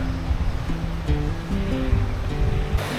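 Water roars continuously at Hebbe Falls, a broad, loud rush of a waterfall and stream that stays steady and dense throughout with no voices.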